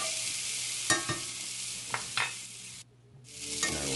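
Butter and mushrooms sizzling in a cast iron pan, a bright continuous hiss broken by a few clanks and scrapes of a utensil, with a brief drop to near silence before the frying noise returns.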